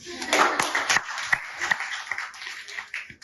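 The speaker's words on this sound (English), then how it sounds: "clap for yourselves." Students at a career counseling session clapping for themselves, a loose ragged patter of hands with sharp individual claps standing out, fairly close and uneven over a few seconds.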